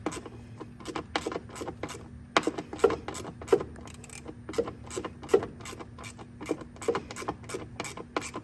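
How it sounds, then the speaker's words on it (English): A wrench ratchets in quick, rhythmic clicking strokes while undoing a lock nut on a factory stud at the intake manifold of an LT6 engine, close and fairly quiet, with a brief pause partway through. "So I'm going to undo the nut."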